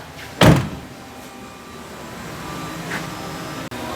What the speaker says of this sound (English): All right, so close the door here.